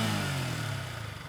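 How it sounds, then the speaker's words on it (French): A Yamaha XRS 125 motorcycle's 125cc engine runs close by, its throaty hum dipping slightly in pitch over a brief moment. "on se fait un petit test bruit moteur"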